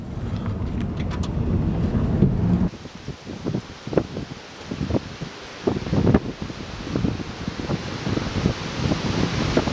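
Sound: powerful wind gust roaring during severe storm

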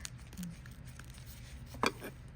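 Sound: knife slicing fresh birch polypore mushroom

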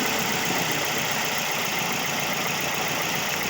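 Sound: Toyota Vios engine knocking

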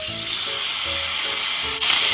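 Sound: half bacon sizzling in a buttered frying pan

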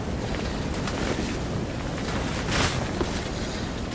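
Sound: heavy wind outside a tent in arctic conditions

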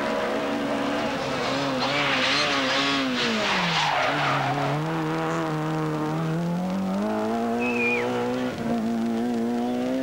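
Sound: rally cars racing, Rally Città di Saluzzo 1996

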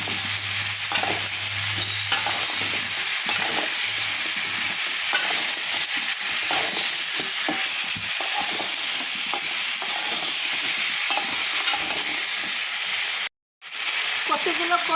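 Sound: stir-frying taro with prawns in a pan

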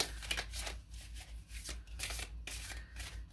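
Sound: shuffling a deck of cards

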